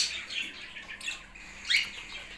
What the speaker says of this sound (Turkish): Şu üç günlük muhabbet kuşumuz.